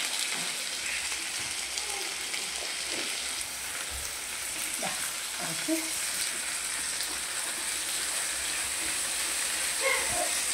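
Tomato and drumstick pieces frying in a pan, a steady soft sizzle with small crackles and pops throughout, heard at close range and fairly faint.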